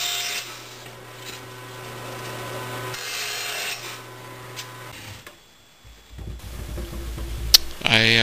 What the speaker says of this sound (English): I need to trim the corners off of my plywood bottom.